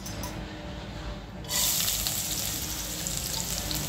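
Dried fruit frying in ghee makes a soft sizzle that suddenly swells louder partway through, then continues as a bright, steady hiss.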